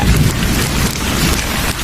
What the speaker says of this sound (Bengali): এ হলো কালবৈশাখী জল এত সহজে থামার নয়